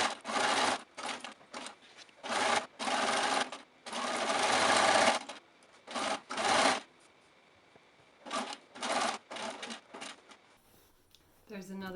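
A sewing machine stitches a seam on a triangular mermaid tote bag in several loud, close bursts of rapid clatter separated by short pauses, with a brief bit of handling at the end.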